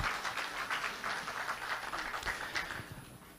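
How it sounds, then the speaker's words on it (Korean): Crowd applause at a Liberty Korea Party national convention during a party leader candidates' debate, a steady dense roar of clapping from a large audience that holds for the whole stretch without letting up. "큰 박수 부탁드립니다"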